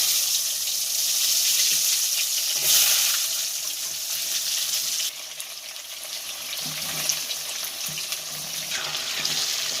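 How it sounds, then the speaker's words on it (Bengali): Potatoes hit hot oil over already-fried tempering spices for a vegetarian cabbage ghonto, giving a steady, fairly loud broadband sizzle and hiss that runs the whole time with no talking. "এবার আমি আলুটা দিয়ে দেবো।"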